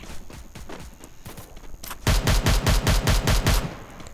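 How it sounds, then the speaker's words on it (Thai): Rapid bursts of automatic gunfire from the Free Fire mobile battle-royale game, faint at first and then a loud, close rattle of repeated shots. "นี่มีศัตรูอยู่ตรงนี้อีกเราก็ยิงไป"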